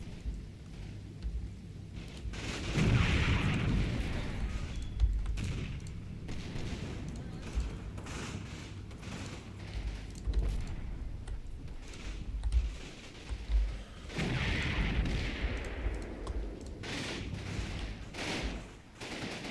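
Gunfire and artillery from the Combat Mission Red Thunder war game: bursts of rifle and machine-gun fire mix with heavy booming impacts and rumbling blasts, coming in loud waves over a constant battlefield din.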